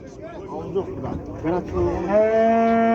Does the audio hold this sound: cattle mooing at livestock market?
yes